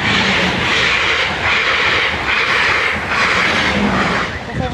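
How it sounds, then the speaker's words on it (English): A train rushes past Sheet level crossing, loud and close, with a rhythmic rumble and wheel clatter that swells in regular pulses. "Warning, another train is approaching."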